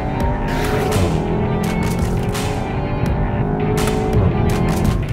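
A Volkswagen Golf GTI TCR hatchback driven hard on dry roads, its engine droning loud and close with shifting revs, while tires squeal briefly through the run.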